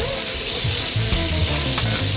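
Garlic sautéing in hot oil gives a dense, continuous close sizzle, with low knocking and scraping from the pan and utensil underneath; no one speaks.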